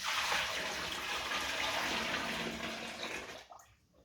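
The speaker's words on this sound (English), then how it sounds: "So half a deciliter, and here's 4 liters. So we're gonna try and pour this in." About four liters of water pour steadily into honey for a first batch of mead, a continuous rushing splash that cuts off abruptly near the end and leaves near silence.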